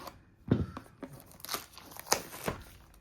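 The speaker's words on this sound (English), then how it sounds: "Get off the saran wrap. Sorry for any crinkling." Plastic shrink wrap is peeled and torn off a Mythic Champions: Firestorm board game box, giving a few short crinkling and tearing bursts spaced across a few seconds, close to the mic.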